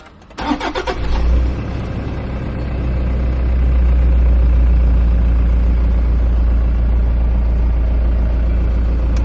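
A 2015 Toyota Landcruiser Prado GX-L starts with a push button: a brief cranking burst catches, the engine flares, then settles into a steady, close, rumbling idle.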